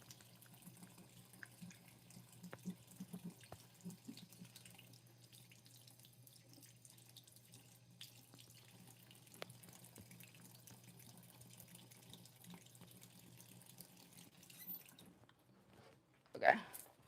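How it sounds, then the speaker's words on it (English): Tap water runs steadily into a sink while cosplay teeth are rinsed under it, a soft continuous splashing at close range that ends with a louder burst of handling and water. "I'm just rinsing them underwater so they're easier to put on."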